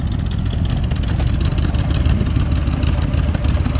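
A 1970 AMC Javelin SST engine idles close up, a steady low rumble that holds even and loud for the full few seconds with no revving and no voices.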